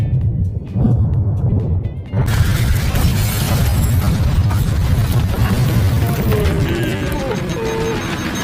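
Mines blow up near a yacht in a loud outdoor blast, a sudden burst around two seconds that is followed by sustained roaring rumble and crackling debris, with a steady engine-like hum underneath throughout.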